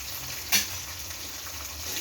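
Coriander, cumin and fenugreek seeds roast in oil in a pan with a steady, soft sizzle and one brief stirring scrape near the start. No voices are heard.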